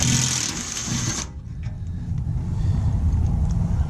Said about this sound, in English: There are 12mm bolts that need to come out.